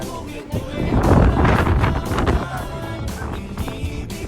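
Gusty wind at Edinburgh Castle, Scotland, buffets the microphone with a loud, rumbling swell in the middle, then eases to a steadier roar, with faint voices underneath.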